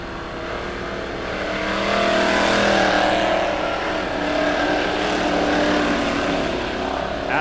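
Race car engines roaring around the dirt track at Lebanon Midway Speedway during a heat race, one car passing close with a rising and falling drone over a steady field of other engines.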